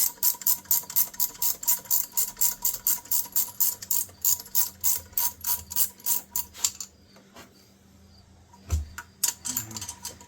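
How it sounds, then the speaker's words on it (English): A ratcheting wrench loosens factory-installed bolts on a Sea-Doo 951DI stator with a quick, even run of close, crisp clicks. The clicks stop into near silence, then a few clunks follow. "If you have one of these ratcheting ones in this small area, your ratcheting wrench will get stuck."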